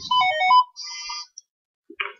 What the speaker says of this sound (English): It's the mobile phone.